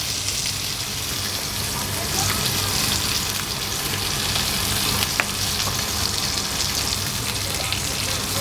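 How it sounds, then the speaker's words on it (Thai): A prime rib steak fries in a pan with a dense, unbroken sizzle that stays loud and even throughout, with a faint tick or two over the hiss. "ตรงนี้เราก็สามารถทอดไปกินไปได้เรื่อย ๆ ครับ"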